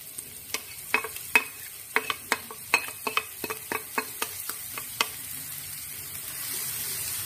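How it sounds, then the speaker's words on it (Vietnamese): Chopped lemongrass frying in a generous amount of hot oil in a pan, with a steady sizzle broken by a quick run of sharp clicks and scrapes from stirring, then settling into a quieter hiss. "Sau khi dầu sôi á thì mình sẽ cho cái phần xả vô trước."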